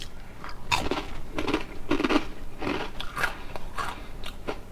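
Crunchy Nora seaweed tempura snack being bitten and chewed up close, a steady series of crisp crackling crunches and bites with no talking.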